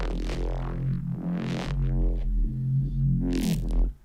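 Heavy synth bass patch for a neuro-style take on a pop song, a thick sustained low drone with a sliding, wobbling midrange and bursts of bright noise, playing loud and continuous on its own for about four seconds before cutting off.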